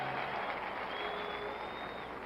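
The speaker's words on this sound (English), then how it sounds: "And now the audience stands and applauds Dave DeBusschere." A basketball arena crowd applauds during pre-game player introductions at a 1970 NBA Finals game between New York and Los Angeles, a steady distant wash of clapping and crowd roar with a faint tone running through it.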